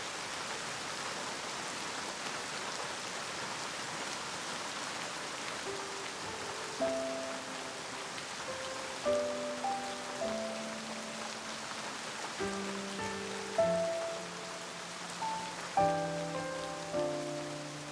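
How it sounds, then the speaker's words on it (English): Steady rain patters on a surface with a soft hiss throughout, while gentle musical tones play over it in the second half. "Rain slowly dissolves the foam."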